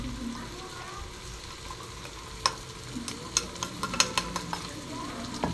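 Ginger garlic paste frying in hot oil in a home biryani pot, a steady close sizzle broken by several sharp scraping clicks of stirring in the second half.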